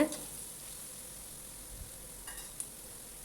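Quiet, steady sizzling of onions frying in hot oil for udang sambal, with a few soft clinks and stirring sounds scattered throughout.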